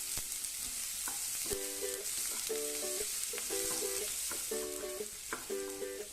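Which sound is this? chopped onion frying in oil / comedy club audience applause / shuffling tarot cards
chopped onion frying in oil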